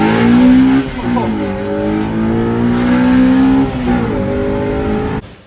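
A Honda Civic fitted with a DIY induction kit revs hard into VTEC, its loud engine note climbing, dipping between pulls and rising again up close before cutting off abruptly at the end.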